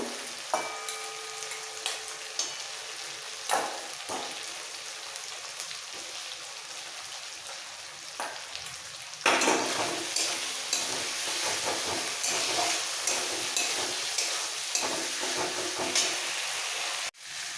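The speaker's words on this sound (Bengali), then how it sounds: "এবার দিয়ে দেবো ভেজে রাখা আলু" Fried potatoes tipped into a sizzling rohu fish curry with softened tomato and spices, a loud close frying hiss with clattering stirs, then a fuller, louder sizzle as the potatoes go in and keep being stirred, no voices.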